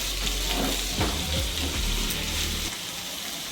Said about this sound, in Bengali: পেঁয়াজটাকে আগে একটু লাল লাল করে ভেজে নিতে হবে।